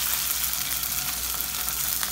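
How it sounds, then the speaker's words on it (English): Salmon fillets sizzling skin side down in olive oil in a hot pan, a steady close crackling fry with no talk. "Heat up two pans, a little bit of olive oil. Salmon in, skin side down always."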